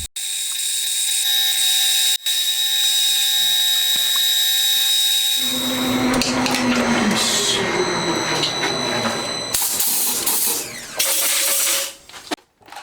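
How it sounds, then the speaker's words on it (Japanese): An 8 mm drill bores through a small part for a Honda Monkey engine build, a steady high whine for several seconds that turns to a harsh, grinding rasp as the bit cuts through, then cuts out abruptly. "次は 8mm のドリルで貫通です。"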